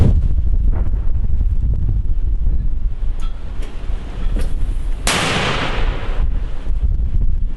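Two deep booming mortar shots fire outdoors in combat in eastern Ukraine amid strong wind buffeting the microphone, with a sharp blast about midway through.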